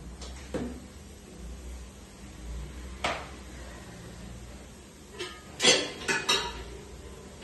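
A cooking pot is lifted off a home kitchen stove, with scattered metallic clanks and clatters of pots and utensils, a few sharp knocks near the start and a quick cluster of clinks toward the end, close by and without talk.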